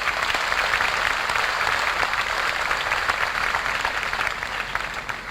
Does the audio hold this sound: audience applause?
yes